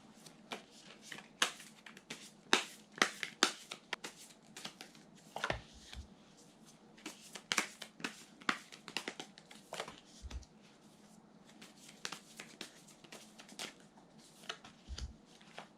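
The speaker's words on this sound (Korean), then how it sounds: "한번 추가 카드 뽑아보겠습니다" Tarot cards are shuffled and drawn by hand: quiet, crisp riffles and sharp flicks and snaps come in irregular bursts, close and soft with brief pauses between, with no talking.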